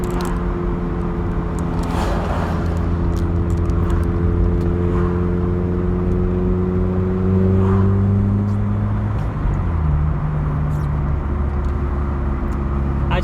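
A Vauxhall Cavalier mk2, a worn 'rat' car, drives along with a steady droning engine note and road rumble from inside the cabin, the pitch holding then shifting slightly as it changes speed, with no talking.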